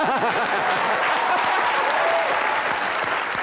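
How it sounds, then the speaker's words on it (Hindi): Loud, steady audience applause from a studio crowd at a comedy show, dense clapping sustained without a break and no voices over it. "प्रियंका के लिए जोरदार तालियां"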